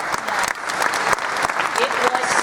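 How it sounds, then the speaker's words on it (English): Enthusiastic audience applause at a 2017 Star Trek Convention, a dense, continuous roar of many hands clapping with sharper individual claps popping out, while a voice speaks over it. "Please applaud."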